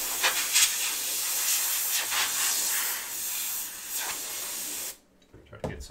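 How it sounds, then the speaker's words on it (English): A steady spray hisses for about five seconds onto a 2021 Leaf Metal Draft football trading card, fairly close and continuous, then cuts off abruptly. "Try to get some of that sprayed off there."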